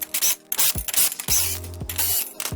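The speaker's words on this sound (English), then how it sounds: "you want to go ahead and remove all these lug nuts from here." Lug nuts being removed from a Ram pickup's wheel hub with a power tool, several short whirring, ratcheting bursts separated by brief gaps and a low mechanical hum, close up, with no talk.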